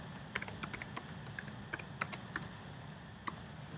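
Password being typed on a computer keyboard, a quiet run of irregular, close key clicks with short pauses between taps.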